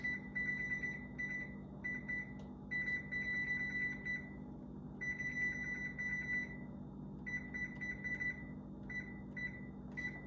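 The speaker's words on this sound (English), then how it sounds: "Now let's set our timer for 45 minutes." Kitchen timer being set for 45 minutes while baking cherry, chess, fruit medley and buttermilk pies, giving bursts of high electronic beeps in repeated clusters over a steady low kitchen hum, with no talking.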